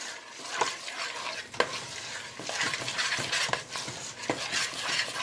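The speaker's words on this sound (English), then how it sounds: "Now let's stir all this till combined." A thick mix of oats, vanilla and peanut butter stirred in a pot, a spoon scraping and thumping in steady repeated strokes, close and moderately loud.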